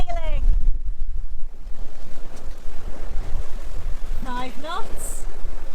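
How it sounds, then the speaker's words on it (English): A sailboat glides with its engine off, steady wind and rushing water with waves washing against the hull filling the scene, loud buffeting wind noise on the microphone, and brief voice-like tonal sounds in between. "Do you hear that? The engine is off!"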